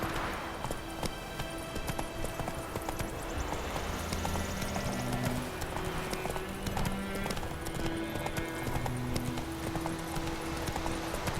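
Roach, a horse in The Witcher 3, galloping with a steady, continuous clip-clop of hoofbeats throughout, set against a tonal game score.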